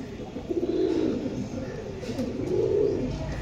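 Pakistani pigeons coo softly in a loft, low throaty rolling calls rising and falling in two swells, fairly close and not loud, with no talking.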